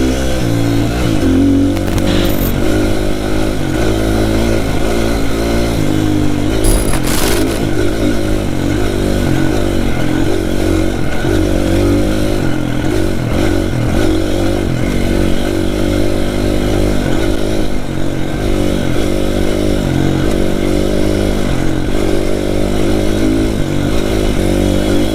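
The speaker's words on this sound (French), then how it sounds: "avec le bruit de la moto vous allez rien entendre" A motorcycle engine drones steadily and loudly throughout a ride through a forest in Belgium, with shifting revs and a wind-buffeted, close-up roar and no talk.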